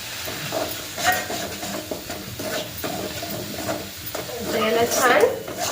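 Chili powder, onion-garlic masala, homemade masala, salt and turmeric stirred and frying in hot oil, a steady sizzle with scraping spoon strokes that swell louder near the end.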